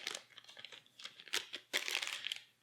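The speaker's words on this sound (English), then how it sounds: "We'll take our nice plastic bags, and I'm going to just sort of sort it by type now" Plastic bags rustle and crinkle close by while board game cards are sorted during an unboxing, with irregular bursts of crackling, loudest toward the end.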